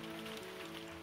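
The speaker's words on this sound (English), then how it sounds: "hail," Hail patters down in a dense, even hiss of small impacts, steady and moderately loud under a low sustained musical tone, with no voices.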